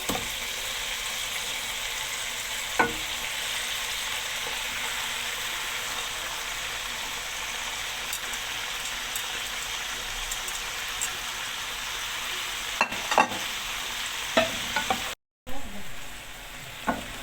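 Chicken and onions being stir-fried in a pan, a continuous loud hiss of frying close by, with occasional clinks of a utensil, a short dropout near the end and faint talk underneath.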